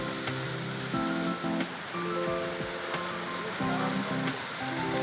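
A waterfall at Bani Mansoor village gives off a steady, loud rushing roar, with a sustained melodic tone running over the water noise throughout.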